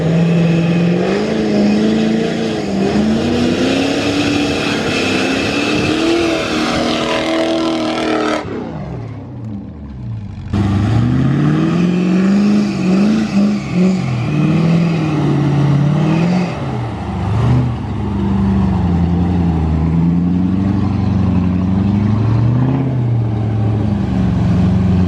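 A V8 Land Rover Discovery engine revs and labours loudly on a rough 4WD track, rising and falling in pitch over a sustained run with a short drop in the middle before climbing again, close and dominant.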